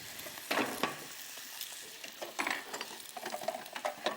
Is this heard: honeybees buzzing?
no